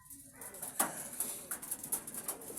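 Captured pigeons in a basket give soft, repeated cooing and rustling calls, close and fairly quiet, in short irregular bursts over light background noise.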